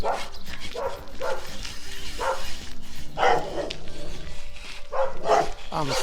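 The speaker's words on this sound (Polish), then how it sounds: "Staw, on Staw szczeka." Two dogs out on a May walk bark in a few short bursts, fairly close, while a person talks and other outdoor sounds carry on steadily in the background.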